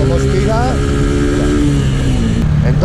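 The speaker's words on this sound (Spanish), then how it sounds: "fijaros cómo sale la moto desde boca a vueltas, cómo estira" A Macbor 125 cc motorcycle accelerates hard from low revs, with a loud, steady engine drone whose pitch rises and stretches out. The recording is close to the bike, with wind rush throughout.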